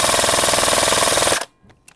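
A Lancer Tactical LT36 airsoft rifle fires on full auto, a loud close rapid burst of evenly spaced shots lasting over a second and then cutting off into near silence with a couple of faint clicks.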